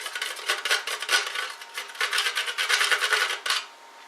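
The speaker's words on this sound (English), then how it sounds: "we're going to get our teaspoon and we're going to just scrape out the bottom." A teaspoon scrapes the bottom of a lemon for zest, giving a continuous run of close, bright metallic rasping strokes with short pauses, and no one speaks.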